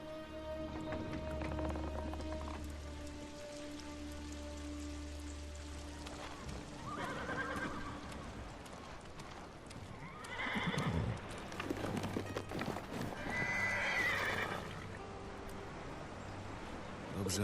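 A horse in Ghost of Tsushima whinnies and neighs while its hooves clip-clop steadily, with rain pattering and a voice speaking at times.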